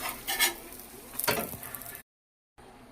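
Dibba rotti, a thick batter cake of idli rava and urad dal, fries in ghee in a pan with a soft sizzle and a few scraping stir sounds as it is flipped, then a brief cut to silence.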